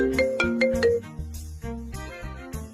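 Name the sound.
mobile phone ringtone for an incoming call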